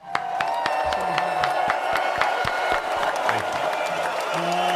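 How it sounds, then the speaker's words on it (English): A few people in a small studio clap and whoop for a guest on a show, with sparse, distinct hand claps over a steady hum and some voices and cheering mixed in. "We got to give you a round of applause."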